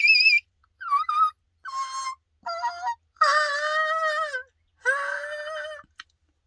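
A diaphragm game call blown in a series of short, separate whines and wails, the pitch climbing and dropping between calls, close and clear.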